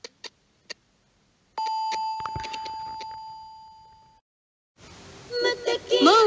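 Radio hour time signal: three short beeps followed by a long sustained tone marking the hour, then a voice begins speaking after a pause.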